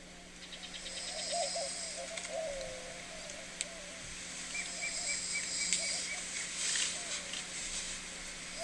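Doves coo softly in the morning at a campsite, low repeated calls heard at a distance among chirping birds and faint insect buzz, with quiet background voices.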